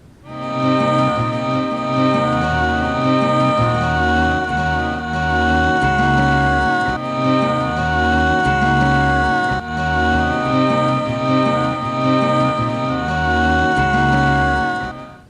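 Two short sung vowel samples taken from the end of a song loop on a Morphagene tape module, forming a steady repeating tonal drone with pulsing low notes, loud and continuous without pause.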